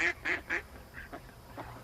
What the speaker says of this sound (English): No, those are ducks.